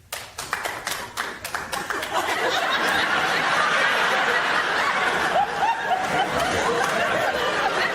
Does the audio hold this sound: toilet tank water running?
no